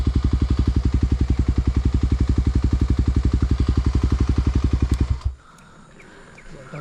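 Motorcycle engine running with a steady, rapid thumping rhythm, loud and close, then abruptly cut off after about five seconds, leaving quiet outdoor background.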